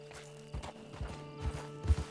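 Horse hooves clip-clopping in the open-world western game Red Dead Redemption 2, a few uneven thuds close by over a steady low game ambience, with no talk.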